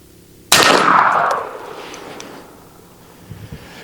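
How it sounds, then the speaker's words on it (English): An AEA Zeus air shotgun fitted with a turkey choke fires a single loud, sharp blast close by outdoors, followed by a long fading rush of echo and wind. "I'm going to shoot it again, right?"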